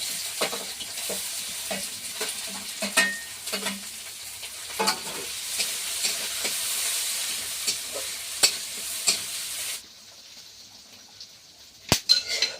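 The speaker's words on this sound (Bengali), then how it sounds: "এঁচড় রান্না করার জন্য প্রথমে কিন্তু তেলে পেঁয়াজ আর কাঁচা লঙ্কা দিয়ে দিচ্ছি" Onions and green chilies sizzle in hot oil for a jackfruit and prawn curry, a steady broadband frying hiss with scattered clicks of stirring, dropping to a quieter hiss near the end before a couple of sharp knocks.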